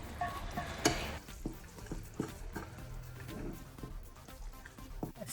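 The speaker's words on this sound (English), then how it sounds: "Now you can mix everything quickly with the flour." A spoon stirs buckwheat bread batter with flour in a bowl, making soft, quiet scraping and tapping sounds with irregular light knocks.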